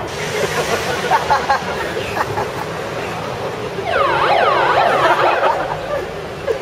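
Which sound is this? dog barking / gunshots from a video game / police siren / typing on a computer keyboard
police siren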